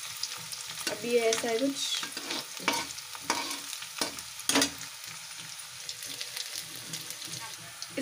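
Ingredients for idli sambhar frying and being stirred in a pan, with steady sizzling and scraping stirs throughout while someone speaks briefly.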